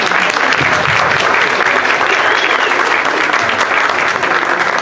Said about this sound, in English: Can we please have a big round of applause for the planning staff for being here